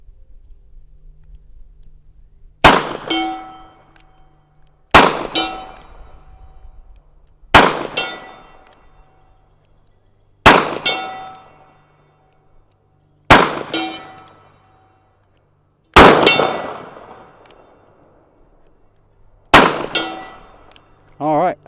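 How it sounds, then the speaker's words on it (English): A .357 Magnum Taurus 627 Tracker revolver fired at a steel gong 60 yards away: seven separate sharp metallic clangs spaced a few seconds apart, each ringing briefly before fading, with a quiet background between hits. "we'll try 60 yards here with the bunny fart loads, shooting that gong on the far left"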